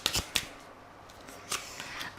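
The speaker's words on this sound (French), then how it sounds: "on va aussi prendre une carte avec les cartes bleues" A tarot card drawn from a deck of blue cards: a few quick, light papery slides and flicks, crisp and close, with short pauses between them and no talking.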